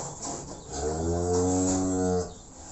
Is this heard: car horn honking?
no